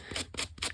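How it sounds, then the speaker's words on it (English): Three quick scissor snips cutting paper for a grungy handmade journal tag, crisp and close, evenly spaced with no voices. "I don't want to cut too much on the sides there"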